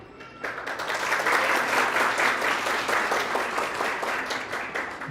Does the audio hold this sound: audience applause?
yes